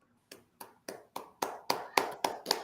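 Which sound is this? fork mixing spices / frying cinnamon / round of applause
round of applause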